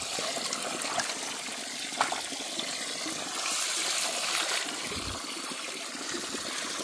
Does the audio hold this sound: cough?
no